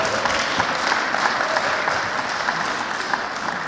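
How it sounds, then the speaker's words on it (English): At a Black History Month flag raising, a crowd applauds steadily and fairly loudly, a continuous even patter of many hands clapping throughout without a break. "you deserve another round of applause and more"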